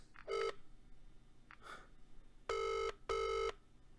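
A phone places a call, with a few short keypad beeps followed by two long, evenly spaced ringback tones, loud and close with no talking.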